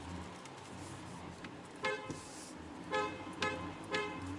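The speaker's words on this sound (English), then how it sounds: "That's how the horn sounds like, because I'm going down a one-way ramp." A 2023 or 2024 Porsche Cayenne sounds its horn while driving down a one-way ramp: three short toots, the last two close together, over a low road and cabin rumble.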